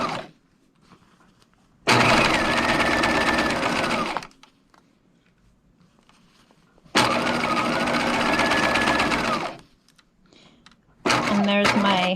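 A domestic sewing machine stitches a lace face mask in two long steady runs of about two seconds each, separated by pauses, followed by a short final burst.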